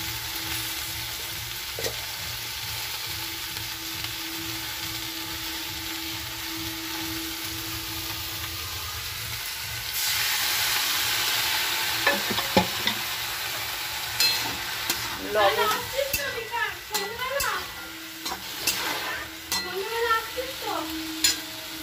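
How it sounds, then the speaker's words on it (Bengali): Okra and potato curry sizzling in a pan, a steady hiss with a low hum early on, then louder stirring scrapes and clatter and faint voice-like sounds in the later part. "বন্ধুরা এই যে ঢেঁড়স আলুর তরকারি বসিয়ে দিয়েছি।"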